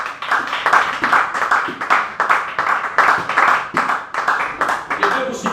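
A church congregation at a revival seminar claps steadily and rhythmically in strong repeated beats, with voices calling out over the applause.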